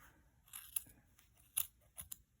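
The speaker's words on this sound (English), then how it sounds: "we insert our scissors. You're going to want a sharp pair of scissors." A sharp pair of scissors snips through crochet yarn loops on a pompom scarf, a few quiet, crisp cuts spaced irregularly, close up and alone.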